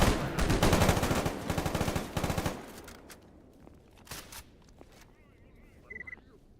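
Bursts of rapid automatic gunfire from the video game STALKER GAMMA, loud and clustered in the first couple of seconds, then a few scattered, fainter shots follow as the shooting tapers off.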